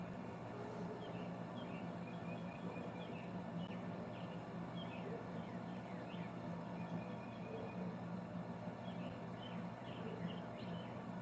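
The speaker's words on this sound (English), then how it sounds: "Hello, little chickadee" Faint, scattered chirps and short calls from a chickadee in a Maine backyard rise intermittently over a steady low outdoor hum, distant and soft with no voices present.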